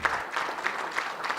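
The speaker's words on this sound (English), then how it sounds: "it's worth some applause" Brief audience applause at an academic talk, a short burst of clapping in a rough rhythmic pulse, moderately close and lasting just over a second.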